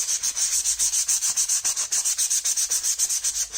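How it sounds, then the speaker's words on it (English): Rapid rhythmic scuffing of a plastic armor plate, about twenty quick sanding strokes in under four seconds, close, bright and even with no voices. "so you're scuffing the actual plate"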